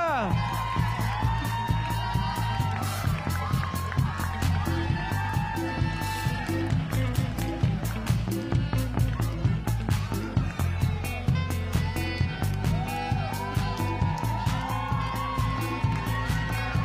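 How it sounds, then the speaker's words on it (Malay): Applause and cheering greet the winning school, Sekolah Kebangsaan Konvent Father Barry Kedah, at the Junior Innovathon 2025 prize announcement, a dense steady crowd roar with clapping and shouts under a loud music-like backing throughout. "tepukan untuk mereka"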